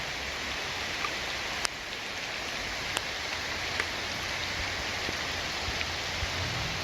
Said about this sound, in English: Oops, too much rain, I can't stop this.